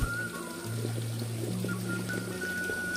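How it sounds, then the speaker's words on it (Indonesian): Steady water flowing and trickling behind a house in a quiet forest village in Sumedang, a soft continuous pour at moderate distance with no talk. "Air pun mengalir di belakang rumah sahabat."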